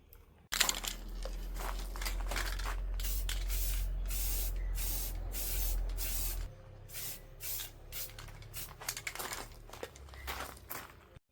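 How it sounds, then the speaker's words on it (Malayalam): An aerosol can sprays paint onto the roof of a homemade Christmas crib in a loud, close, continuous hiss lasting several seconds, then shorter intermittent bursts follow with light crinkling and handling noises. "പെയിൻ്റ് അടിക്കാം"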